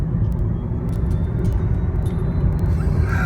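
A 2012 Nissan Leaf electric car surges forward at full throttle, a steady loud rumble of road and motor noise with faint high whine, no voices.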